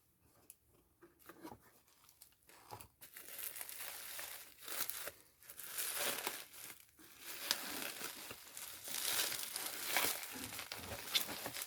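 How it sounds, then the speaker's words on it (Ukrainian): Parcel being opened by hand: cardboard box and plastic packaging crinkle, crackle and tear in a steady run of close, dry rustling bursts, growing busier toward the end, with no talking. "Зараз ми з вами відкриємо другу посилочку і глянемо, що в цій посилочці."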